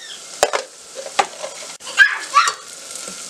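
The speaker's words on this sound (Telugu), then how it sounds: "1 స్పూన్ అల్లం వెల్లుల్లి పేస్ట్ వేసుకొని ఫ్రై చేసుకోవాలి" Ginger garlic paste fries with onions in oil while a spoon gives a few scattered scrapes and taps over a quiet sizzle.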